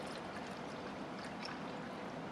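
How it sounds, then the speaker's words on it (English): Water running into a bottle as it is filled nearly to the top, a steady, close rushing trickle that continues without pause. "you want to fill your bottle pretty close to the top with water"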